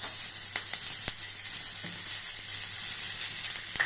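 Chopped onion frying in hot oil, a continuous close sizzle with a few sharp ticks and faint stirring scrapes, no voices.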